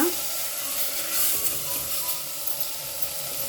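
Cut potatoes fry in a pan for a breakfast dish, giving a steady, even sizzling hiss throughout with no talking.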